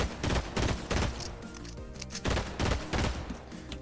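Pistol gunfire in the Fortnite video game, with loud bursts of shots repeating every second or so and short gaps between them, and no talking.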